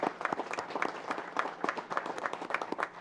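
A round of applause from the audience at a county board of commissioners meeting, many hands clapping in a steady, moderately loud patter that carries on throughout without speech.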